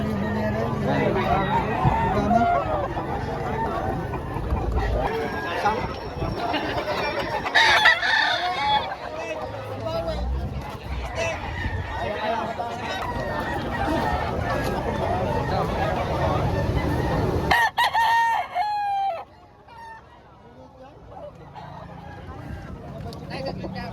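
Several roosters crow loudly amid clucking fowl and a busy crowd of voices at a poultry market in Lipa, Batangas, then the chatter cuts off and a lone crow rings out against quieter background.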